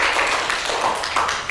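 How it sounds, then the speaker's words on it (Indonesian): A classroom audience applauds group 1 in a brief burst of many hands clapping together, diffuse and moderately loud in a roomy space. "kasih tepuk tangan kepada kelompok 1 ya"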